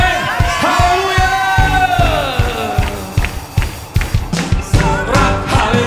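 A church congregation cheers and shouts hallelujah during an Indonesian worship service, loud crowd whoops and yells over a steady rhythmic beat of music and clapping, with a voice leading over the top.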